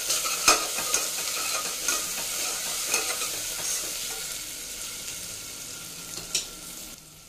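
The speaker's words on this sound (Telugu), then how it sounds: "ఇప్పుడు మిక్స్ చేసుకుందాం." Ginger garlic paste and vegetables for a vegetable pulao are stirred in a hot pan, producing a soft, even frying hiss with a few sharp spatula taps and scrapes, fading slightly toward the end.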